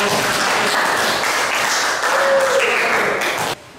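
A classroom audience claps steadily for several seconds after a group presentation, a dense, even burst of applause that cuts off abruptly near the end.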